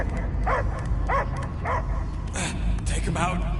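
A dog barks and yelps in short repeated bursts in the Guardians of the Galaxy video game, loud and close, while a voice talks over and between the barks.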